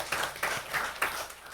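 A church congregation at a Sunday service claps together in thanks, a brief burst of dense, roomy applause with a few rhythmic swells, heard moderately loud.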